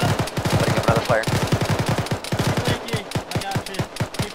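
Rapid automatic gunfire from a military video game, with dense bursts of machine-gun shots rattling continuously and loudly, interspersed with single cracks and a brief voice underneath.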